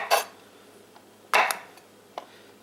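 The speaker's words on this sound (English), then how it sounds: "now moving on to the jalapenos. I just like to cut the top off" A knife cuts the tops off jalapeños on a cutting board while making pineapple pico de gallo, giving a few sparse, sharp taps and clicks separated by quiet pauses, with no talking.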